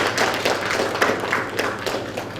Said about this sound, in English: So you should clap for yourself.